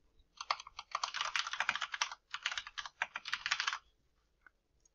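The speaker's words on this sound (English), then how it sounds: "If you go ahead and type in something like, say, a sheriff's office" Rapid, close typing on a computer keyboard entering a search into a map address bar, a dense burst of clicking keys for about three seconds, briefly paused midway, then silence.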